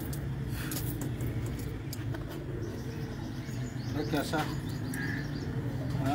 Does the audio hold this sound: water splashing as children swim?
no